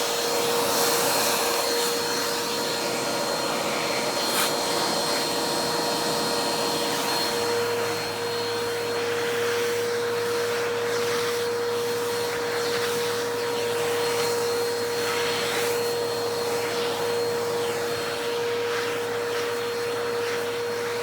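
A Bissell Cleanview 2492 upright vacuum cleaner runs steadily and loudly for the whole stretch, its motor drone holding a constant whine with a slight shift in tone partway through, and no voices over it.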